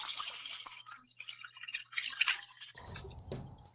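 Water is poured into a glass, giving a soft trickling and bubbling run that rises in pitch, then a brief louder splash near the end, heard close and quiet with no talking.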